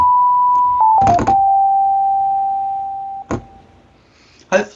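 Clean synthesizer sine-wave tone from a simple pipe, flute-like and steady, holding one pitch for a few seconds after a brief wobble, broken by short noise bursts near the start and end.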